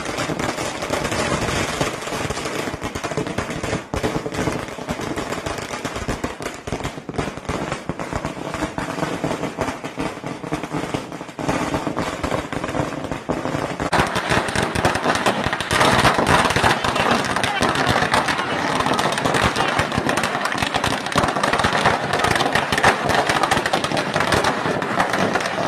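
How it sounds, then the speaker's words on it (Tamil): Firecrackers burst in a dense, nonstop crackling barrage at a crowded cinema celebration for the 2005 Tamil film Sachein. The volume is loud and close and grows heavier partway through, with crowd noise mixed in. "பாட்டெல்லாம் பட்டாசு வெடிக்க ஆரம்பிச்சிட்டாங்க."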